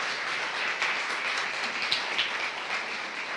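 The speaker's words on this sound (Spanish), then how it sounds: "Un aplauso para Natis" An audience at a church gathering applauds, a dense continuous wash of clapping that holds at an even level throughout, with no speech over it.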